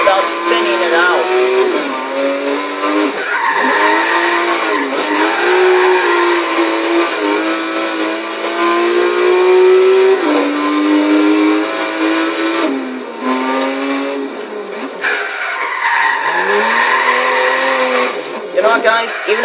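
A 2016 BMW M4 GTS in the racing game Forza Horizon 3 spins out, its engine revving loudly and rising and falling in pitch with bursts of acceleration, while tire squeal cuts in and out.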